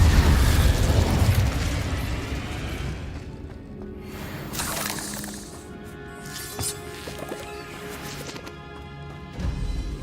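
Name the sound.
Incendio fire spell explosion in Hogwarts Legacy video game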